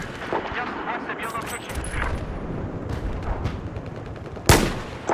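Gunfire in the PC video game Battlefield 4 during beta multiplayer play, a steady stream of rapid shots under a rumbling battle din, capped by one loud sharp blast near the end.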